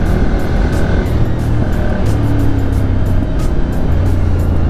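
A Ducati Monster 796 motorcycle rides along a mountain road, its engine a steady loud drone mixed with heavy wind rush that runs unbroken throughout, with slight pitch shifts as the rider holds speed.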